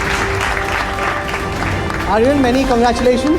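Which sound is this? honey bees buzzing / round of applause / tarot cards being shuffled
round of applause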